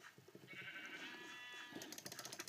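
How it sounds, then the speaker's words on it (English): Sheep bleat in the Minecraft video game, a few blocky wavering baa calls coming close and clear, followed by a quick run of sharp clicky hits near the end. "Just to protect my beautiful sheep."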